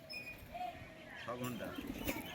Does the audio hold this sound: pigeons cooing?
yes